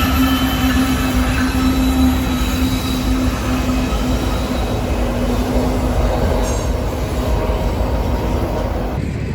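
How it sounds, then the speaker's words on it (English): Train passing over a railroad crossing at speed, a loud continuous rumble of cars and wheels with a steady metallic squeal running through it. "this train was coming a little fast"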